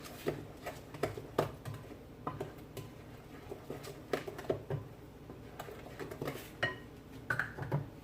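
Banana oatmeal pancake batter is stirred in a bowl, the spoon tapping and scraping in quick irregular clicks, close but fairly quiet, with no voices.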